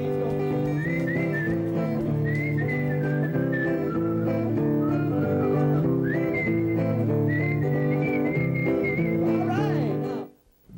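Clear, melodic whistling of a tune rings out at a 1991 colonial days fair, phrases of sliding notes over a steady bed of sustained musical tones, ending with a brief dip.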